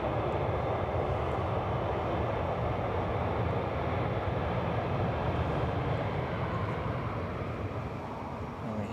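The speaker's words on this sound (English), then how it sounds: "And we hear the reverse thrusters die down and they vacate right" An airliner landing on the runway roars with reverse thrust, a loud broad engine rumble and hiss that holds steady and then begins to fade slightly toward the end, with no talking.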